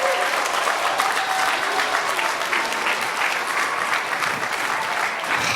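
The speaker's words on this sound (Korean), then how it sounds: "자, 우리 각시 박수를 한번" Dense, sustained applause from a large audience at a Rotary Korea gathering, a loud, even roar of many hands clapping without pause.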